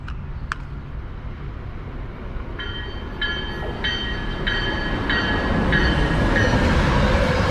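A train rumbles into Readville Station with a rising roar of wheels on rails, and a repeating electronic chime sounds over the noise.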